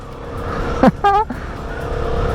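A Yamaha MT-07 naked motorcycle accelerating on a test ride gives a brief, rising engine note lasting about a quarter second, set against a steady rush of road and wind noise.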